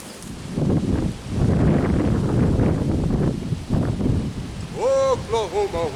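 Wind blowing through a spring garden roars and buffets the microphone in strong gusts, with a few bird chirps near the end.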